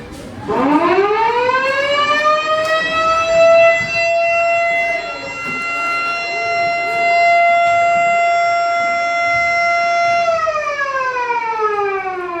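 A wailing siren signals that time is up in a classroom activity, rising quickly to a loud, steady tone that holds for several seconds, dips briefly, holds again, then winds down, with faint voices underneath.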